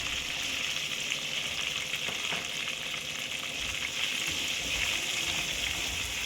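Garlic frying in hot oil in a brass pan, a steady loud sizzle holding throughout with occasional faint stirring scrapes beneath.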